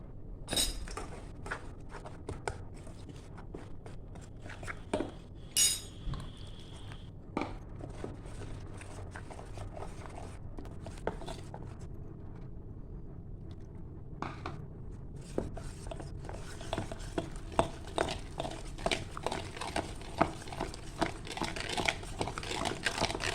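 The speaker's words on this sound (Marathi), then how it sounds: "आता आपण त्यात थोडं थोडं पाणी घेऊन ते फेटून घेऊया" Dhokla batter whisked with water in a bowl, scattered light scraping and clinking of a utensil against the bowl, with irregular taps that grow busier toward the end, close by and fairly quiet.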